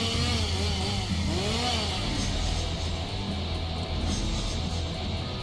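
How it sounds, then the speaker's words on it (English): A chainsaw runs in a video game as a buzzing engine drone with a couple of revving swells, set against dense continuous game sound and music. "she got the chainsaw working again."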